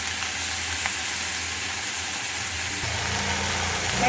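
Ginger and tomato sauté in a pan for a ginger-tomato chutney, giving a steady, even sizzle that holds for the whole stretch at moderate volume, with no voices.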